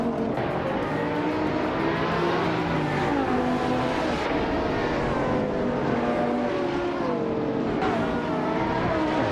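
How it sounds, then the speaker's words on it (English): A 2009 Aston Martin race car in a racing video game, its engine droning and rising in pitch through repeated revs and gear changes, close and steady for the whole stretch with no talk. "Makokaos is starting in pole position, driving a sleek 2009 Aston Martin 177"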